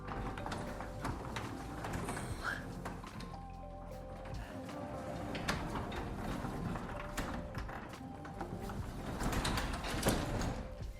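A residential garage door lifted by hand and then dropping back down on its own, with rattling, rolling mechanical noise and scraping that rises and falls, heard up close with no talking.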